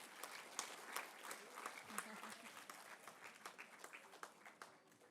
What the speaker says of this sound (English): Can we have a louder applause, please, from the audience?